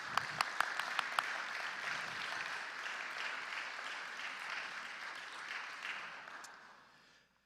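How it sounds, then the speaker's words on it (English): A church annual meeting congregation gives pastors a round of applause, a few sharp claps opening into steady moderate clapping that fades out toward the end. "How about a round of applause for our pastors as well?"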